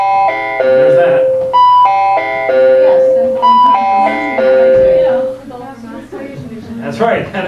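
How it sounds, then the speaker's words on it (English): A school's daily bell chimes in a repeating melodic pattern of clear tones over a steady hum, loud and near, before a voice speaks near the end. "That is our daily bell, kids."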